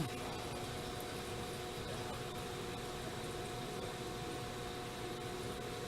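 A vacuum pump pumps down a chamber, giving a faint, steady mechanical hiss and hum with a constant low whine and no change in level, heard without speech.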